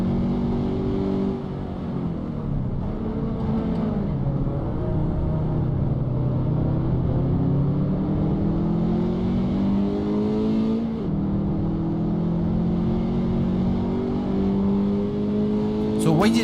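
A Toyota GT86 engine in the Assetto Corsa racing game, revving steadily and rising and falling through gear shifts, continuous and loud throughout, with a person talking over it.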